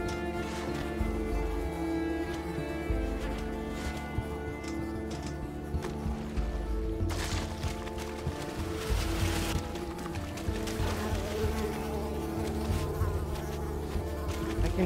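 Swarming insects in Unravel buzz continuously at close range, a dense droning hum layered with game music and ambience, steady and unbroken throughout.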